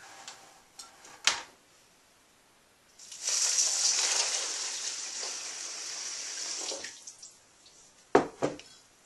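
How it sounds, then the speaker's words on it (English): Water is poured into a tray of perlite, a steady splashing trickle lasting a few seconds, framed by scattered sharp knocks and ticks of handling before and after, close and fairly quiet with no talking. "I'm going to pour some water in it just to moisten it up overnight."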